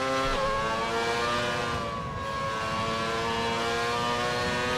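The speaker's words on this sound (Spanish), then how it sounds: "este coche, chicos, por si no lo sabíais, fue el que fue manejado por Mika Häkkinen y David Coulthard" Race car engine from the F1 2020 video game, a car once driven by Mika Häkkinen and David Coulthard, holding a loud steady high whine with a brief shift at the start, running continuously and alone.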